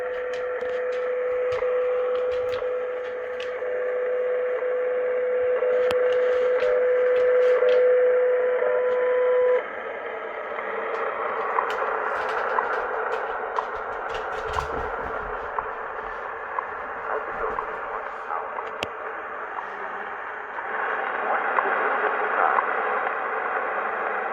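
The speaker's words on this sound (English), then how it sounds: "caught a little bit of my favorite radio station" WWV time station tuned on a vintage Radio Shack DX-160 shortwave receiver: a steady tone over hissing static for several seconds, then noisy shortwave hiss with faint regular ticks and crackles, continuous and moderately loud.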